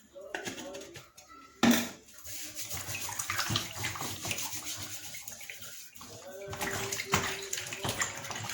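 Peels are dropped into a bowl of salted water in a kitchen, with splashing and sloshing bursts, a sharp plunk early on and more water movement later, while someone talks throughout.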